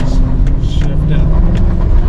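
A mini excavator with a cabin corner problem digs, its engine a steady, loud drone throughout, with brief higher scraping and clanking bursts scattered over it.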